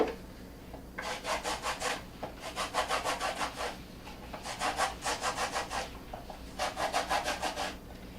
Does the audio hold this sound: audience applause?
no